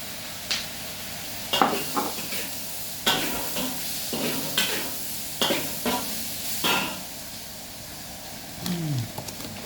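Light soy sauce goes into a sizzling Chinese stir-fry in a wok. There is steady frying hiss, broken by repeated scraping stir strokes at a close, moderate level, with no talk.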